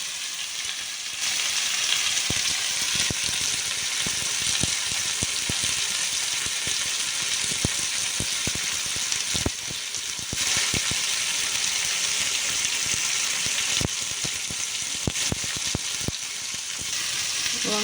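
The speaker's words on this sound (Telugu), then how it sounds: "వంకాయలు వేసేసుకున్నాం కదా, ఇది కొంచెం బాగా ఫ్రై అయిన తర్వాత ఇందులో కొన్ని నీళ్ళు పోసుకున్నాము." Eggplant pieces fry with tomato and onion in a pan, giving a steady loud sizzle throughout, with occasional stirring clicks and a brief gush near the start.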